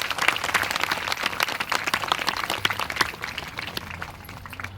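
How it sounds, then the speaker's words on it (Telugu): A crowd at a devotional gathering for the goddess, during a Lalita Sahasranama recitation event, claps together in a sustained burst of applause that gradually tapers off, heard alone. "చప్పట్లు గట్టిగా అమ్మకు చప్పట్లు."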